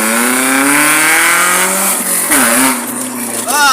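A straight-piped widebody BMW E36 with a newly added muffler drones steadily while driving, its pitch rising and dipping as it accelerates, with a fairly loud, buzzy exhaust note.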